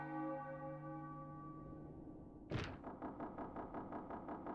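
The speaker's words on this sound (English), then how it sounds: "And that was the 3rd bell toll." A deep church-style bell from the video game Final Fantasy IX tolls once with a long, slowly fading ring, then a sharp thud cuts in and is followed by a steady, rapid pulsing rhythm.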